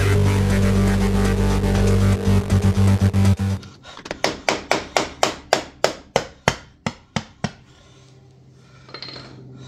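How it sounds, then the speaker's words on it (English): Differential cover being worked loose with a flathead screwdriver or pry bar: a loud mechanical roar cuts off, followed by a series of sharp, evenly spaced metallic taps and knocks that slow and fade. "you're going to need a screwdriver, like a flathead screwdriver or a pry bar, in order to break that seal"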